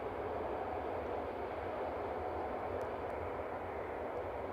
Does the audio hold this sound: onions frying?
no